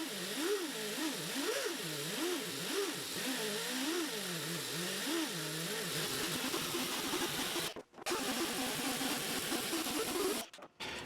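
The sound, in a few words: canvas buffing wheel polishing a guitar finish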